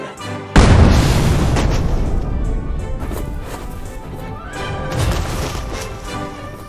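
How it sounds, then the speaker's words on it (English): A single loud cannon boom in a video game erupts and then rolls away into a long fading rumble over background music. "Man the cannon!"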